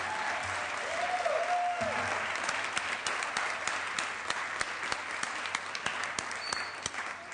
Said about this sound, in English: So let's give a more enthusiastic round of applause.